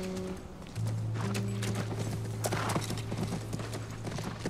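Horse hooves clip-clop at a steady pace over soft background music in the video game The Last of Us Part 1, fairly close and clear.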